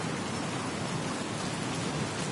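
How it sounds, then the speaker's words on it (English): Rain falling during a stormy night in the video game Battlefield Hardline, a steady broadband hiss of downpour with no break, loud and close, no voices. "You're under arrest for wearing a hood out in the rain."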